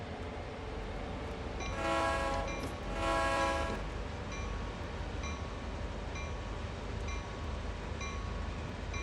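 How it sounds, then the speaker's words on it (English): A train horn in Train Sim World 4 sounds in two long blasts over a steady rumbling of rail noise, followed by quieter repeated tones. "That's an interesting horn."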